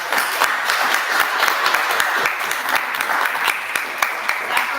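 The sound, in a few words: audience applause at a speaker series event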